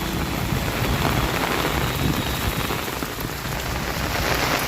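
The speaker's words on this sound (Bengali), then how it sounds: "মোটামুটি ভালোই বৃষ্টি হচ্ছে।" Steady rain falling beside the Muhuri river, a dense, even hiss of drops on surfaces filling the whole stretch with no talk.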